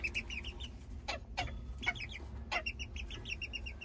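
Miniature bantam chicks clucking and peeping, with short bright calls repeating in quick irregular bursts over a low background rumble, fairly faint and close by.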